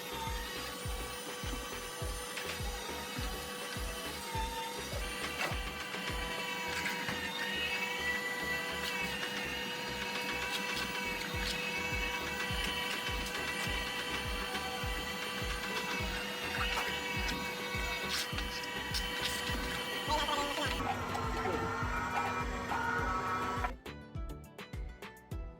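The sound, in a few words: meat mincer machine mincing beef and vegetables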